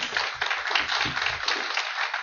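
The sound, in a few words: audience applause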